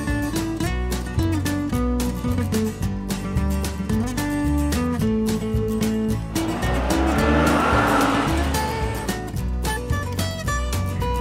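A pink toy car plays a busy electronic tune, and a whooshing, revving car noise rises over the music partway through before easing off.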